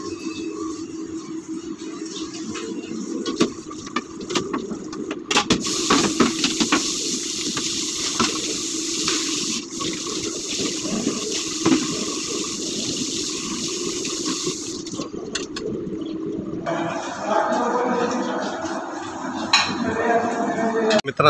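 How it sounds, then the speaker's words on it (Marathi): A dinner plate is washed under a running tap at a shared outdoor basin, with gushing water, clinks of the metal plate and scrubbing noises close by, plus faint background voices. "आता ही माझी जेवणाचे ताट मी धुवायला आलो आहे."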